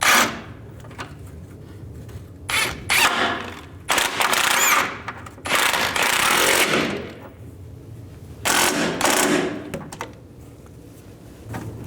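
Idler arm nuts being snugged on a 1999-2007 Chevy Silverado 2500HD, a ratchet or power tool giving several loud, close bursts of whirring and clicking separated by short pauses, with no speech.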